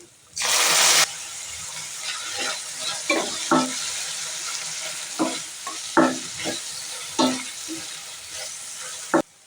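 Two large tomatoes hit hot oil in a pan with a brief loud sizzle, then a spoon scrapes and stirs them in intermittent strokes while the frying stays quiet underneath.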